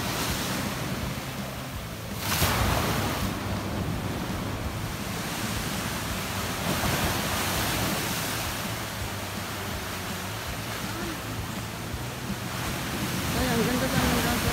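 Sea waves at Sabang Beach, Puerto Galera, Oriental Mindoro, Philippines, roll in as a steady, loud broadband wash of surf, with a heavier swell near the start and another toward the end, wind buffeting the microphone throughout.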